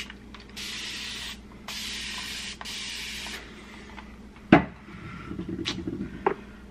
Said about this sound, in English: I just spray myself with my mister and then put my hyaluronic acid on.